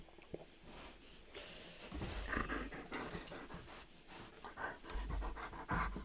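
Dog panting close by, quick rhythmic breaths with occasional snorts, fairly loud and continuous.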